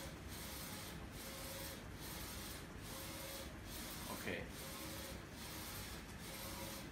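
A DTG T-shirt printing machine with two print heads runs with a steady, rhythmic mechanical shuttling that repeats about once a second under a constant hum, while a voice briefly speaks.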